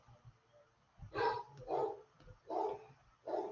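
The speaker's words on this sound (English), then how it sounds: "apparently my dog is still barking" A dog barks indoors, four muffled barks spaced about half a second apart, faint and somewhat distant, with no talking over them.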